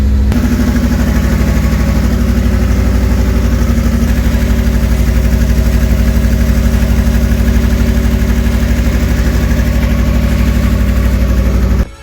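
Subaru STI rally-cross car engine idling with open headers and no exhaust fitted, a loud, raw, steady low rumble with fast even pulses that runs unbroken until it cuts off abruptly at the very end.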